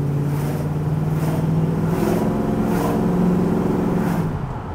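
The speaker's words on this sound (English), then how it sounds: "Really crisp rumble out of the tailpipe." A steady, deep tailpipe rumble from a 1976 Pontiac Trans Am drones close by for a few seconds, low and throaty with a slight rise and fall, no voices.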